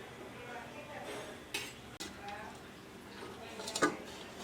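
A steel spatula spreads khandvi batter across a metal plate, giving soft scraping strokes and a few sharp clinks of steel on steel, while a voice talks faintly in the background.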